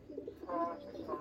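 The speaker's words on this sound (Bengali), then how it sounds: "খুব সুন্দর একটা কবুতর" Pigeons in a collection of pigeon breeds coo softly nearby, a short low burbling coo over quiet background.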